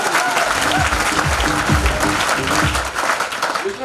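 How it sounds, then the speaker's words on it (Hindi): Loud, steady applause from an audience at a spiritual talk on building inner strength, with a few overlapping voices and cheers rising through the sustained clapping. "कितनी जोरदार ताली है यार, जोरदार ताली"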